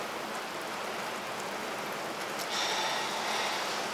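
Pouring rain falls steadily on a day along the American Discovery Trail, a dense continuous hiss that swells slightly louder partway through, with no voices.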